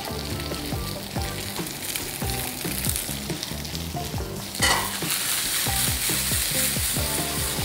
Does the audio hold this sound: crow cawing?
no